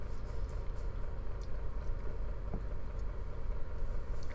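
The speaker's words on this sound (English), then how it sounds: "If you just heard a new hum join the background, our neighbor just started their truck" A neighbor's truck engine idling in the background, a steady low rumbling hum that stays even and fairly faint throughout, with no talking.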